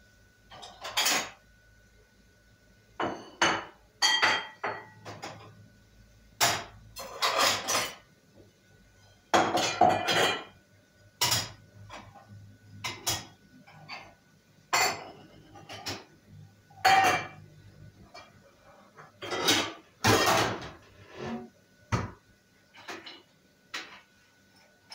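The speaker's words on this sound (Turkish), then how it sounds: "Bulaşık makinemi de boşaltayım arkadaşlar da." Dishes being unloaded from a dishwasher at home: scattered clinks and clatters of plates, glasses and cutlery in irregular bursts with quiet gaps between, close and fairly loud, with no talking.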